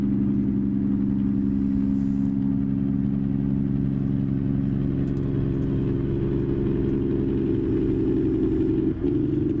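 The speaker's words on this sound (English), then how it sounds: "Let you guys listen to that engine for a little bit." A truck engine idles in American Truck Simulator: a steady, close, low rumbling drone that holds unchanged throughout, with no talking over it.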